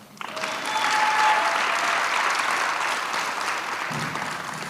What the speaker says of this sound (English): go ahead, we can get a little clap.